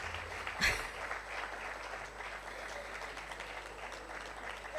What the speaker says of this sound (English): let's give her a very, very loud round of applause